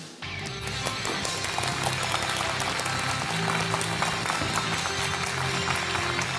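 A live studio audience at a Chinese popular-science lecture applauds to welcome an 81-year-old volcano researcher, steady dense clapping holding at full strength from start to finish, with no talk over it.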